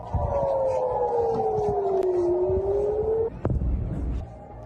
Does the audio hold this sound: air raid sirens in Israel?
yes